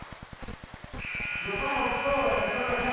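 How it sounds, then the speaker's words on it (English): A game-ending buzzer at a high school basketball game, Natrona County at Scottsbluff, blares as one long, loud, steady electronic tone. It cuts in after a run of rhythmic thumps and holds to the end over crowd noise. "And the buzzer sounds."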